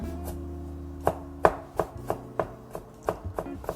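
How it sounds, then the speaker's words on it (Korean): Cleaned balloon flower root (doraji) finely chopped with a knife on a board, about a dozen crisp, close knocks in an uneven quickening rhythm over a low background hum. "세척하여 준비해둔 도라지를 잘게 썰어줍니다."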